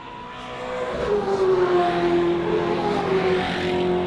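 Australian TransAm race cars, a silver and yellow Firebird and a green Mustang, roar past on track, engines swelling from a rising growl to a loud sustained drone with a clear engine whine, fading slightly at the end.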